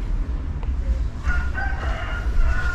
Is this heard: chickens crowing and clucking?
yes